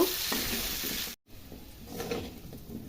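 Diced potatoes sizzling in hot fish-frying oil in a pan, a steady crackling hiss with a few soft stirring scrapes and one brief silent gap.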